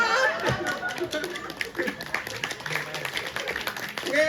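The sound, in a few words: audience clapping hands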